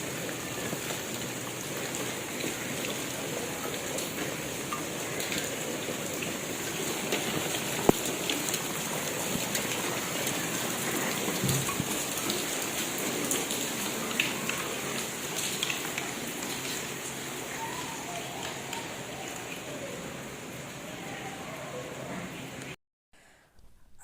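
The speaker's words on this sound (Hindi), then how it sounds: "बारिश की आवाज़ भी सुना देती हूँ" Steady rain falls on a surface in a dense, even patter that holds for about twenty-three seconds, with a few louder drops standing out before it cuts off abruptly at the end.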